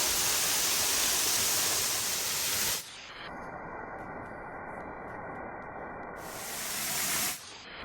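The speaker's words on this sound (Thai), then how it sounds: "มาถึงน้ำตกถ้ำสอนเหนือแล้วนะครับ" Tham Son Nuea waterfall at Phu Kradueng roars as a loud, steady rush of falling water, turning briefly muffled and duller in the middle before the full hiss returns.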